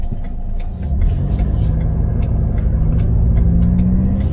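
A Ford Ranger Raptor pickup rolls off for its first few metres, a steady deep engine rumble that swells slightly as it pulls away, loud and close with no talking.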